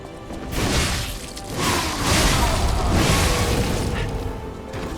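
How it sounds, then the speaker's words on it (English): A big explosion in the video game Lies of P bursts as a loud, broad roaring blast that swells, holds and slowly fades over several seconds. "Dodge that big explosion."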